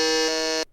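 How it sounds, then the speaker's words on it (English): A quiz game buzzer sounds once, a loud, steady electronic tone held for about two-thirds of a second before cutting off abruptly, with no talking over it. "let's reset the buzzers."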